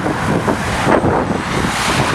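Wind buffets the microphone beside a seaside road in Casablanca near the ocean, with a steady broadband roar of traffic rushing past and no clear speech.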